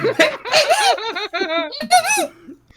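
A person vocally imitates a squeaky toy, producing a run of high, wavering squeals and giggly squeaks in quick bursts, loud and close, lasting under three seconds.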